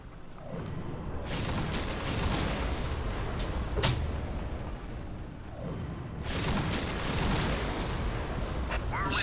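Whirlwind artillery tanks firing in Dawn of War, heavy rumbling salvos with sharp launches and booming impacts in two long waves, dense and continuous, without speech.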